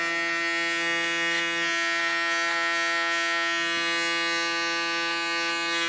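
An electric hair clipper buzzes steadily and close up while cutting a girl's short boyish hairstyle, its motor whine holding an even pitch throughout without pause.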